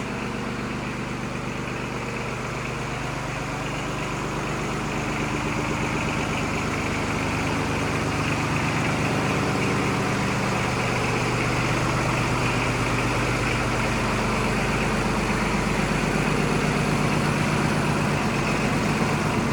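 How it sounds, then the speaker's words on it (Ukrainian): A small diesel engine of a Japanese Yanmar KE-4 tractor idles steadily and loudly up close, a constant low chugging rumble with no change in pace and no voices. "Друзі, от такий тракторець."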